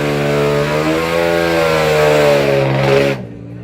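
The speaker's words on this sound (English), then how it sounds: "Let me hear you rev it." A drag racing car engine at a dragstrip revs with a loud, steady, rising growl for about three seconds, then drops off sharply.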